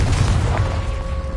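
Confringo spell blast in the video game Hogwarts Legacy: a loud, dense boom with a heavy low-end rumble filling the whole moment, a faint tonal ring trailing through it.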